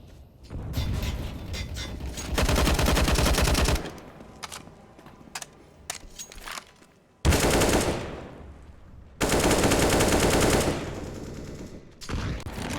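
Automatic rifle sprays in the video game CS:GO, with several loud sustained bursts of rapid fire separated by quieter gaps holding scattered clicks and shots.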